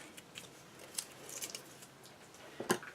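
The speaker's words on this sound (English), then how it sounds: "take some scissors and cut along my taped edge" Scissors snip along the masking-taped edge of a paper weaving for an Easter basket, giving several quiet, close, separate cuts with a sharper snip near the end.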